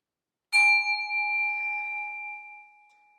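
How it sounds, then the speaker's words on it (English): A single small bell is struck once during a guided breathing moment in a chapel service. The ding has a bright attack and a clear ringing tone that sustains and fades slowly over a few seconds, alone in silence. "I'm gonna ding my bell, and you're gonna breathe out"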